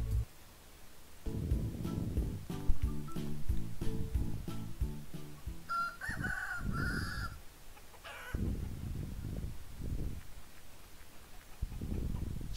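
A farmyard rooster crows with harmonic, stuttering calls, followed by further squawks and clucks from nearby fowl, fairly loud and close with no talking.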